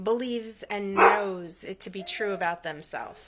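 A dog barks several times in close, sharp bursts while a person keeps talking over it.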